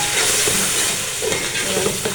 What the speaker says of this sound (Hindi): फ्राई कर लेते हैं